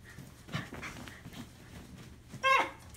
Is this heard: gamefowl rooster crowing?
no